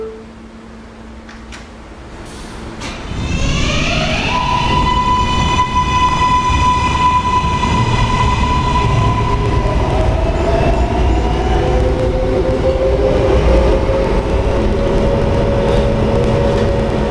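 A subway K train pulls out of a station, first a quiet platform hum, then a loud rising motor whine that climbs and holds in steady tones as the train accelerates and rumbles on.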